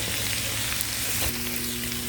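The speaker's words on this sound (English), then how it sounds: "While the fajitas are simmering and all those lovely flavors are flopping around there" Steak fajitas simmer in a pan with a loud, continuous sizzle and hiss, close and unbroken, with no voices.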